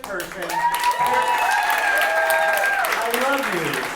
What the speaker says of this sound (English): Clap it up if you are a family member, friend, ally, straight person.